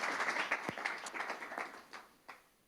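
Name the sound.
applause for a keynote speaker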